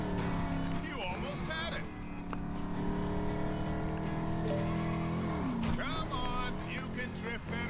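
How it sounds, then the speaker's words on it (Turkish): Cars drifting in LEGO 2K Drive, with engines droning and tires squealing in repeated sliding sweeps over game music, while someone talks throughout. "Dur, çok drift yaptım lan"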